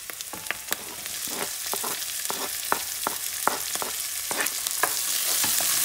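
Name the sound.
chopped peppers frying in a pan with onion, oregano and cilantro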